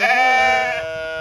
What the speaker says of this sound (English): You can see the lead sheep is, surprise, surprise, Freckles.